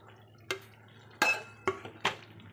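A utensil clinks against a pan four times in an uneven rhythm while fried prawns are stirred into masala, the taps close and sharp over a quiet low hum.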